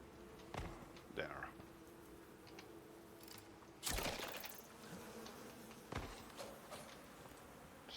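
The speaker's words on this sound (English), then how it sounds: "Let's see, are the bees gonna come for me?" Bees buzzing around a beehive in a cave in the survival game Icarus, a soft insect drone with a few louder passing bursts and clicks.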